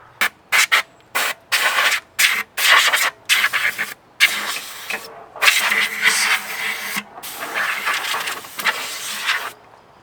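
Rear brake rotor of a 1988 Porsche 944 Turbo being cleaned, heard as a run of short, loud, irregular scraping and hissing bursts separated by brief silences, with longer stretches toward the end.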